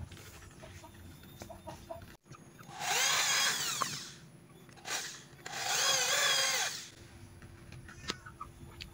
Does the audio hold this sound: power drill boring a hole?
yes